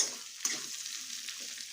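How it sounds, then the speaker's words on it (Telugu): Sliced onions and green chillies frying in a pan for a spinach-onion pickle, a faint steady sizzle with a brief stirring scrape near the start, no talking. "ఇవన్నీ ఉల్లిపాయలు, మిరపకాయలు ఇవన్నీ ఇప్పుడు పూర్తిగా వేపుకోవాలన్నమాట."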